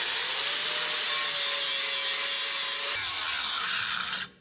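A flap disc grinds a steel C-notch down to fresh metal, making a continuous harsh, close rasping hiss that holds for about four seconds and then cuts off abruptly.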